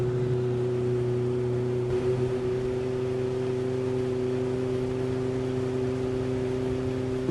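A steady fishing boat engine drones continuously on water, a constant mid-level hum with a broad wash of noise and no voices.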